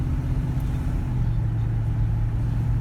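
Steady engine drone from a car climbing a mountain road toward Moon Ridge in Colorado, a continuous low rumble with road noise, close and even throughout.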